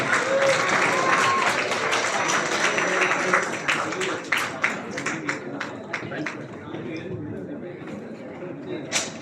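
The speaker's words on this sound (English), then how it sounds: "Big round of applause" Applause from the audience at a physics conference's valedictory ceremony, full and steady at first, then breaking into scattered individual claps as it dies away, with faint murmuring in the room.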